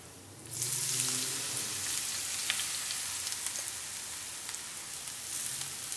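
Eggplant dropped into hot olive oil with garlic, giving a steady, close, broadband sizzle that swells as the pieces hit the pan and keeps crackling evenly with small pops throughout.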